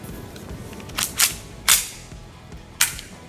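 An AW Custom 1911 gas gel blaster, Deadpool edition, fires four sharp shots with irregular spacing, close and loud over a quiet background.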